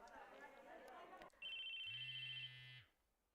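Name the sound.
cell phone ringing in video game Chaos;Head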